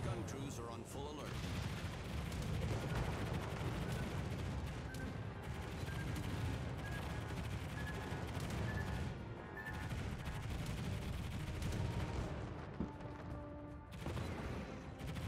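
Anti-aircraft guns on a Cleveland cruiser fire in a naval battle game, a dense, continuous rumbling barrage of rapid shots with bursts layered over one another, loud and sustained throughout.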